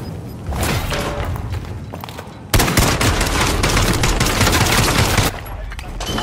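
Rapid bursts of video game gunfire crackle almost continuously, growing louder and denser halfway through, with a few heavier thuds mixed in.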